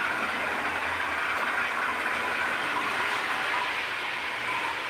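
A British Rail Class 50 diesel locomotive engine runs with a steady, rumbling drone, a constant loud hum held evenly throughout without speech.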